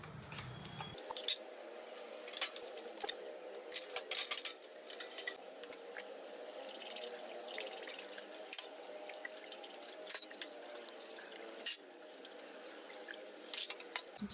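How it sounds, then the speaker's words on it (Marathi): Dishes being scrubbed by hand at a home kitchen sink, with scattered clinks of utensils and pots, a trickle of tap water and drips, quiet and close with no talk. "पहिले आधी ही भांडी घासून घेते"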